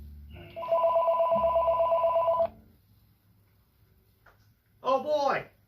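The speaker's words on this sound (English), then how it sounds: "Oh boy, my first phone call of the day." A telephone rings at a sewing and vacuum shop, one loud electronic warble that lasts about two seconds and then stops. Someone speaks briefly afterward.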